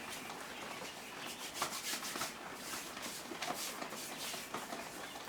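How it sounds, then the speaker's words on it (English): Wet hands rubbing briskly together to shed sticky quail egg pasta dough, a close, steady dry scuffing and rasping texture that runs continuously with small surges. "if you rub your hands together"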